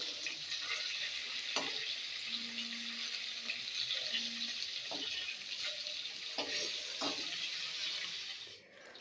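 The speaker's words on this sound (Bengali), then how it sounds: "খানিকটা পরে দেখো মাছ আমার দুদিকেই ভাজা হয়ে গেছে" Pieces of katla fish fry in hot oil in a pan, giving a steady, moderately loud sizzle throughout, with a few soft clinks and scrapes along the way.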